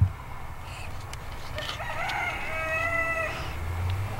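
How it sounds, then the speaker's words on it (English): A farm rooster crows once at moderate distance, the call rising and holding for about two seconds over quiet outdoor background noise. "I hear a rooster."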